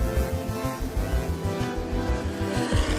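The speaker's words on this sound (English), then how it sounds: "A deep growl goes through the grid as the engines start for race 1." GT3 race cars, including a BMW M4 GT3, an Aston Martin and a Porsche 991.2, idle on the starting grid at a Barcelona winter series race, a deep, pulsing engine rumble that stays loud and steady throughout.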